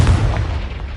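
A Confringo blasting spell from Hogwarts Legacy detonates in one close, heavy boom that rolls away into a fading rumble, with no voice over it.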